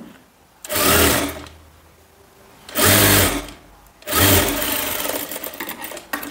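A sewing machine stitches the lining onto a boatneck blouse, running in three loud close bursts with short quiet pauses between them, with no talking.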